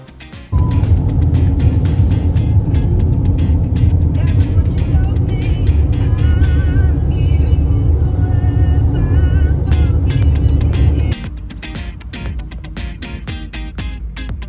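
A car on a long highway drive toward Port Douglas gives a loud, steady road and engine roar that runs continuously, then drops to a quieter, lower rumble near the end.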